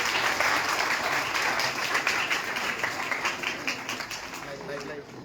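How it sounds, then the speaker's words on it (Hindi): Students in a classroom applaud steadily throughout, a dense continuous wash of clapping from a group that fades slightly at the end. "एक बार जाते जाते तालियां बजा दीजिए बच्चों के लिए।"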